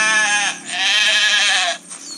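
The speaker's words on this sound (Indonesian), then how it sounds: "Ada suara kambing juga." A goat in the video game The Wolf gives two loud, close, wavering bleats, the first short and the second long, with no talk over them.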